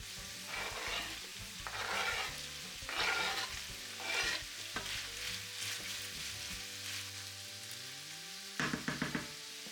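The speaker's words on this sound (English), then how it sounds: "put both onion and garlic in the pan" Onion and garlic sizzling and frying in a pan, with a steady hiss broken by several bursts of stirring and scraping, then a few sharp knocks near the end.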